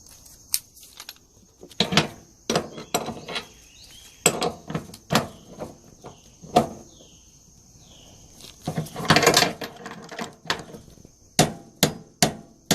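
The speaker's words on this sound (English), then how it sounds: "We're going to tighten this." Tightening a fitting on an air conditioning split system during installation: a series of sharp metallic knocks and clicks, close and fairly loud, coming in irregular bursts with short pauses between them.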